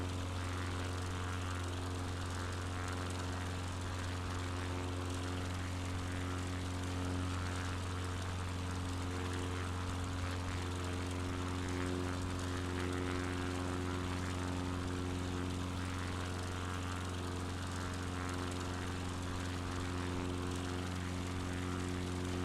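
A propeller aircraft climbs in Microsoft Flight Simulator 2020, its engine giving a steady, loud, continuous drone with a constant hum that holds unchanged throughout, with no voices.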